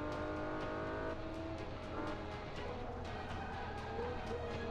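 A race car in Forza Motorsport 5 roars at high revs, its engine note climbing and shifting through gears with steady loud drone and occasional tire noise, no voices.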